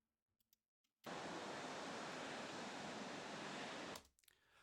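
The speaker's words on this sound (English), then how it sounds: "that is just white noise as a test tone" Loud, steady white noise played as a test tone in a digital audio workstation, running for about three seconds and cutting off abruptly, with near silence and a few faint clicks on either side.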